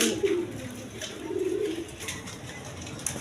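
A pair of Pomeranian pouter pigeons gives soft, low cooing in two short bouts, fairly faint against a steady background hiss.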